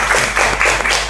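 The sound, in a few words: classroom applause for students who presented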